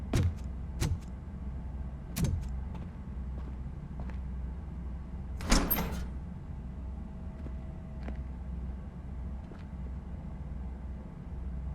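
A door opens in the video game RoboCop Rogue City with a few sharp clunks and a brief louder burst of mechanical movement, set against a low steady ambient hum with scattered faint clicks.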